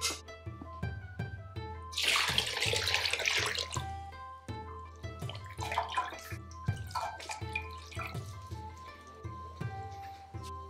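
Dashi broth strained and poured into a donabe clay pot, a close splashing liquid stream that rises and fades in several pours with dripping, beneath soft background music.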